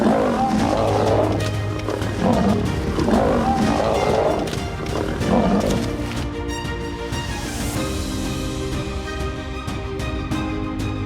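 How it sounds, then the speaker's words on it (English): Several lions growl and roar in a tense wild standoff on dry savanna, deep rumbling growls rising and falling in close, loud bursts that give way to a steadier low roar. "the growls and roars of both groups filled the dry air"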